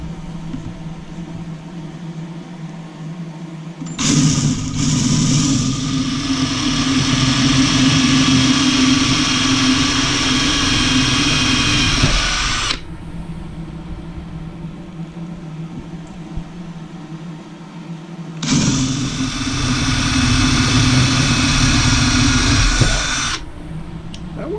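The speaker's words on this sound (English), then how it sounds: "We've got our cordless drill." Cordless drill with a 7mm brad point bit bores into a wooden pen blank in two long, loud whirring runs separated by a quiet pause, motor humming steadily under load.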